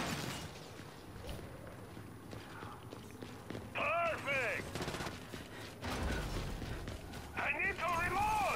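Combat in the video game Gears 5, with bursts of gunfire and mechanical clatter under frequent shouted in-game voice lines and callouts.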